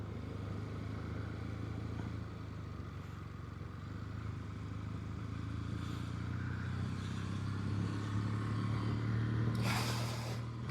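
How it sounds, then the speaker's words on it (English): A Kawasaki Meguro K3 motorcycle rides through quiet Japanese countryside, its engine a steady, close, continuous drone that swells slightly near the end with a brief hiss. "on my motorbike, I'm probably making the most noise."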